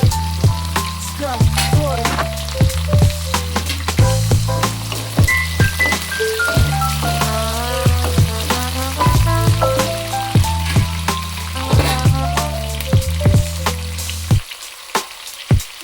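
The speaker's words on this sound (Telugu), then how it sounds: "చూడండి ఉల్లిపాయలు పచ్చిమిరపకాయలు వేస్తున్నాను ఉల్లిపాయలు కొంచెం కలర్ చేంజ్ అయ్యే వరకు వేయించుకోవాలి" Onions and green chillies fry in a pan with a steady, loud sizzle and crackle, broken by repeated sharp clinks of a spoon against the metal until it cuts off near the end.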